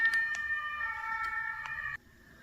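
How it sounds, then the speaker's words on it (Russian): An ambulance siren sounds as a steady sustained wail with faint clicks, fairly close, and then cuts off abruptly near the end, leaving a faint lingering tone. "Скорая помощь."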